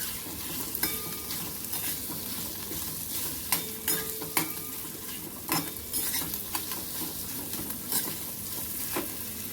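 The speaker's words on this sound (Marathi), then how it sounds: "वाफवून घेतलेला वटाणा घ्यायचा आहे आणि हे थोडं छान परतून घ्यायचं" Steamed green peas sautéed in a pan, a spoon stirring them with steady scraping strokes over a continuous close sizzle, with a few sharper clinks and knocks along the way.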